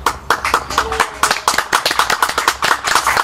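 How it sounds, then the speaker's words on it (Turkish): A small group of people clapping in a village setting in Kayseri, Turkey, a brisk burst of close, sharp hand claps with uneven rhythm lasting a few seconds. "Güzelce bir alkış aldım orada."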